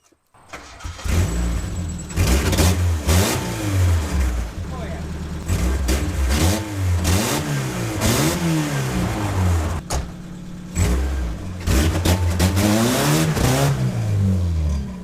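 Mazda Miata engine with a cracked, slightly leaking manifold gasket revving loudly and repeatedly, rising and falling in pitch with a rough, raspy exhaust note, close by.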